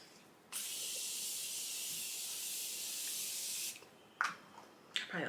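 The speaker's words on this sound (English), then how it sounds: "I probably overdid it on the spray" Makeup setting spray hisses out in one long, steady burst of about three seconds, followed by two quick short spritzes, close and alone.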